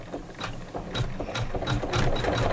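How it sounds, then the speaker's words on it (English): An embroidery machine runs decorative stitching around a green flower block for a quilted pillow, giving a fast, steady mechanical whir of rapid needle strokes, close and continuous with no talking. "I'm gonna hit start again and do number 3 of the embroidery file, which is going to do all the decorative stitching around the green."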